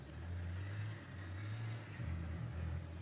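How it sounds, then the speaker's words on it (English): A motorcycle engine runs at a steady low rumble a short distance away on a farm, moderately loud and holding an even idle with slight variations. "that's Keith riding somebody else's motorcycle."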